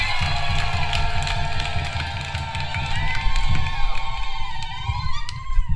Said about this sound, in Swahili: Tumpigie Mungu makofi na vigelegele.